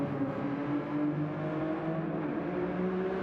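A race car's engine drones steadily during a fast lap of a circuit, a loud continuous motor tone shifting slightly in pitch as it accelerates, with no voices.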